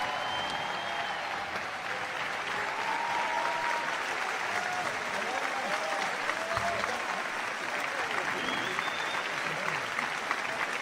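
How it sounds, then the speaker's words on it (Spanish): Audience applauding a symphony orchestra at a rock band's 15th anniversary symphonic concert: dense, sustained clapping from a large crowd for the whole stretch, with scattered whistles and cheers over it. "Arriba el aplauso para la gente de la Sinfónica"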